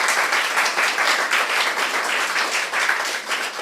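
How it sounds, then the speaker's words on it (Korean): An indoor audience at a church talk applauds together, a dense, steady burst of many hands clapping at close range, fading slightly toward the end with no speech over it. "감사의 박수를 한번 제가 보내고 싶어요."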